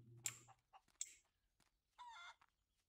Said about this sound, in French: alors les poules, c'est incroyable les poules